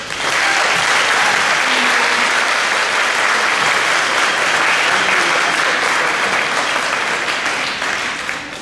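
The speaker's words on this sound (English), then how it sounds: "I want a round of applause for the Wise Muscatine staff for helping put all this together" A theater crowd at a variety show gives the organizing staff a long, even round of applause, dense clapping that holds steady for several seconds before tapering slightly at the end.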